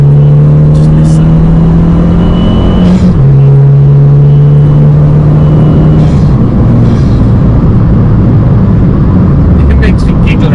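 A car engine fitted with a Forge induction kit drones loudly and continuously, its steady pitch stepping down slightly around three seconds and rising again before easing off, with a dense intake roar throughout.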